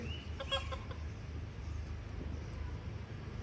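A chicken gives a short burst of clucks at a home where a pet is chasing it, faint and brief over a low steady background hum, then quiet.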